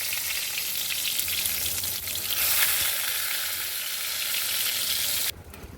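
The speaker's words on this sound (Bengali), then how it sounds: "তো এখানে হচ্ছে আমার বেগুন ভাজা" Eggplant slices fry in a pan with a dense, continuous close sizzle and crackle that swells slightly midway and then cuts off sharply near the end; no one speaks.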